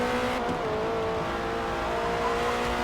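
A Ford race car engine in Forza Motorsport holds a loud, steady, high-pitched drone as it accelerates, with no talking over it.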